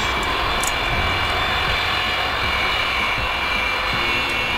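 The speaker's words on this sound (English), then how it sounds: "Antonov An-225 Mriya, the largest cargo aircraft in the world, designed by Antonov." Engines of the Antonov An-225 Mriya, the world's largest cargo aircraft, roar in a dense, unbroken wash of jet noise, steady and loud throughout with no talking.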